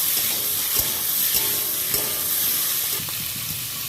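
Papaya and mixed vegetables stir-fried with a spice mix in a hot pan, a loud steady sizzle with a few scraping stirs of the spoon, with no talking.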